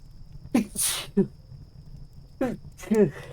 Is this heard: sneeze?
yes